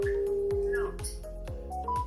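Electronic tones and short beeps from a smart keypad with RFID, fingerprint and Wi-Fi unlocking, a sustained tone followed by a quick series of chimes and clicks, fairly clear and close.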